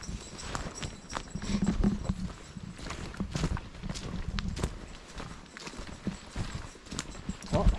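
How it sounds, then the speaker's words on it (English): Horse hooves clip-clop at a steady walking pace along an estate path on Lissan House grounds in County Tyrone, fairly close and distinct, with faint background rustle and no talking. "Keep an eye out for another horse, Luna."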